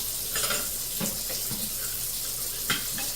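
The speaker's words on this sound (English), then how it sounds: "I'm going to get this sink basin full of some hot water" Hot water runs from a kitchen tap into a sink basin, a steady hiss of filling water with a few clinks and bumps of jars or dishes nearby.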